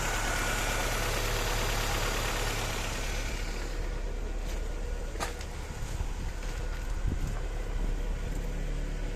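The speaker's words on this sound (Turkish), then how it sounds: "Araba çalışıyor" A Tofaş car engine with a traction problem runs steadily at idle, a low continuous rumble with a faint ticking texture, close and unbroken throughout, no voices.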